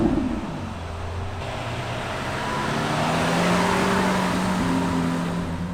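Steady road noise and engine drone from a Lamborghini Urus cruising behind a Lamborghini Sian, a continuous rolling rumble that swells slightly as the car gathers speed, with no talking.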